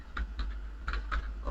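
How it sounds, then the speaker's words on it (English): Light typing on a computer keyboard, a handful of quick soft key clicks in small uneven clusters over a low hum, quiet and close. "let me type"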